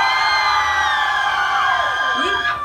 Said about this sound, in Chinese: 你們才給最勁的暴種的尖叫聲可以嗎